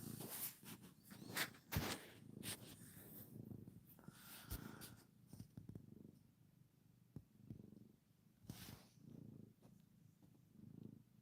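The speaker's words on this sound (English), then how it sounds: "And she's purring." Skylar, a pet critter, purrs softly and steadily close to the mic, a low continuous rumble with a few brief rustles and handling noises mixed in.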